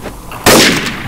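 Grenade exploding in the shooter game Counter-Strike: Source: one sudden loud blast after a short lull, with a booming wash that fades over about half a second.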